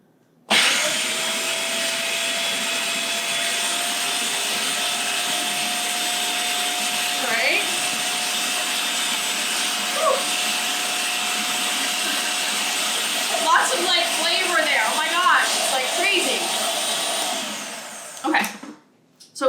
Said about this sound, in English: now I want to blend this stuff up first